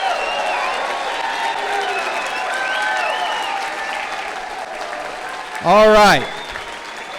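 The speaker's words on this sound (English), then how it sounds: "please stand up. Biggest round of applause." Audience applause at a FreedomWorks Arizona Senate forum, a broad crowd clapping and cheering that carries on steadily, with a brief loud spoken interjection near the end.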